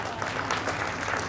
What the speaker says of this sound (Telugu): వాళ్ళకు ఒక్కసారి క్లాప్స్ కొట్టండి,